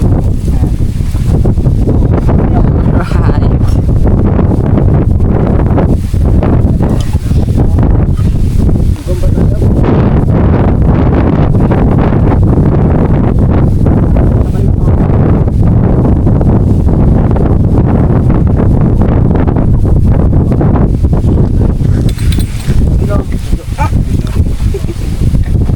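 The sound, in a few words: strong wind on a mountain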